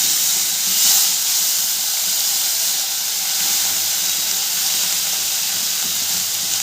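Onion paste dropped into hot oil for an egg curry, giving a loud, steady, close hiss of frying that holds evenly throughout with no talking.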